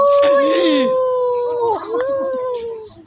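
A dog at Burnham Park lets out a loud, close, drawn-out howl with wavering pitch, breaking briefly before resuming, while people talk nearby.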